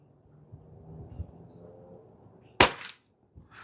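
A Pinty 9 .22 calibre PCP bullpup air gun fires a single pellet: one sharp, loud crack after quiet low handling noise, followed by a short faint knock.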